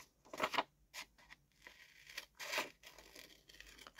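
Paper or card is cut up by hand, giving a few separate crinkly tearing or snipping bursts of varying length with quiet pauses between them, close and fairly soft, with no talking.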